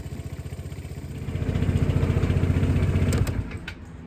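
Vespa Sei Giorni 300 scooter engine idling after an oil change, a close, steady rhythmic putter that rises slightly in loudness midway, then cuts off near the end, leaving a few light clicks.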